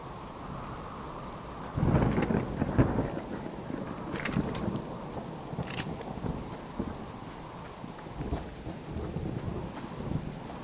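Steady rain hisses throughout while thunder cracks and rumbles nearby in the video game The Long Dark, with several sharp crackling bursts rising above the downpour.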